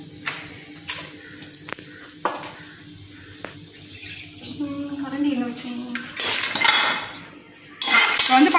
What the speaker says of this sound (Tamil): நான் கிளறிட்டு இருக்கேன் பிரியாணி இலையோ ஏலக்காயையும் போட்டு கிளறிட்டு இருக்கேன்